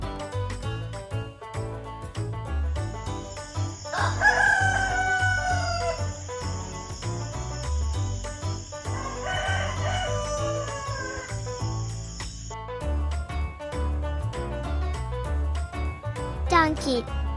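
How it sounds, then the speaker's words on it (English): A rooster crows loudly and up close, with two long drawn-out calls over soft background music and a steady high tone in a children's farm animal sound sequence. "rooster,"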